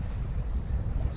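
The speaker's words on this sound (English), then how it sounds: "It's windy, but it's warm summer wind." Warm summer wind buffets a Bavaria 41 sailing yacht under way, a steady low rushing roar with no voices.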